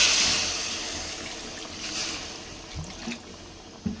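Water pours into a pan of ladies finger curry, giving a loud splashing rush that fades into quieter sizzling, with a few small bubbling blips toward the end.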